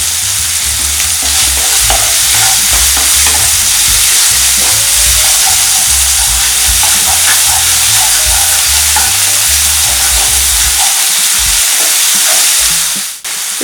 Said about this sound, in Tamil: இது கொஞ்சம் நல்லா வதங்கிடுச்சு.